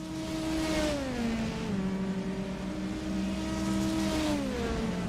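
Aston Martin GT3 race car engine in a racing game at Circuit de la Sarthe, a steady loud drone with tones sliding down through gear changes, sustained throughout with no talk.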